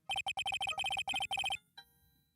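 A phone ringtone plays a rapid, evenly pulsed electronic melody of short repeating beeps, then stops and leaves a brief fading tail, fairly close and alone.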